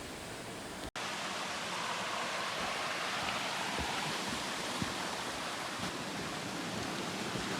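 Rushing river water at a river crossing on the Appalachian Trail, a steady broadband roar that holds constant and loud after a brief cut near the start, with no voices.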